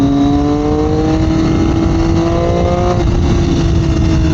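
2021 Triumph Daytona 765 Moto2 engine with an Aero slip-on exhaust and de-cat, revving hard and loud close by, pitch climbing then dropping back.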